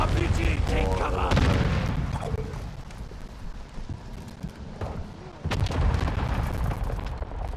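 Rumbling explosions from RPGs and bursts of gunfire in a military shooter video game, loud booming blasts and crackle that swell, ease off, then return, with game voices mixed in.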